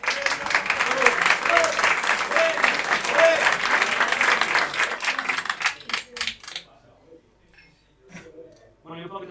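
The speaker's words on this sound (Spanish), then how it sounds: "Un aplauso a Alberto." Audience at a Halloween PechaKucha night applauds loudly for several seconds, dense clapping that thins into a few scattered claps and fades out, voices mixed in as it dies away.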